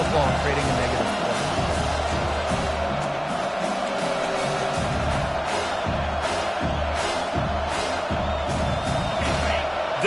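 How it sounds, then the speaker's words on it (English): Stadium crowd at a football game roars steadily through a third-down defensive stand, a loud continuous wash of cheering with scattered whoops, while a commentator talks over it. "Decibels rising as the crowd gets behind this defense on third down."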